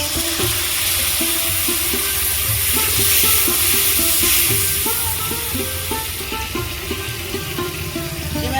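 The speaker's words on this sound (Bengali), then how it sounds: "মশলা ভেজে নিয়েছি অল্প একটু জল দেব এবার" Water poured into spices frying in a pan for vegetarian soybean muithya hits the oil with a loud, steady, close sizzle and hiss that runs the whole time, over a low background hum.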